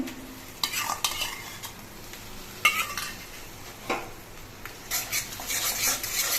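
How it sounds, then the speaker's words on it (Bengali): A fennel, ginger and green chili paste fries faintly in a pan while a utensil scrapes and clinks against the metal in irregular strokes, with no talking. "এবার এই মশলাটা একটুখানি ভেজে নিতে হবে"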